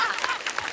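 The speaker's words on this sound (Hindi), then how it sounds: "पहले टीम के लिए जोरदार ताली।" A studio audience claps for the team, a brief dense burst of applause.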